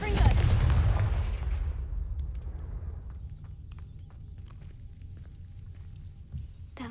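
A Confringo fire spell cast in a Harry Potter video game, a loud booming burst at the start that decays over a few seconds into a low rumble with faint scattered crackles.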